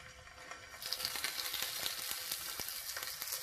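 Stuffed minced meat patties frying in heated olive oil in a pan, a bright crackling sizzle that jumps up as they are laid in and then pops and spits steadily.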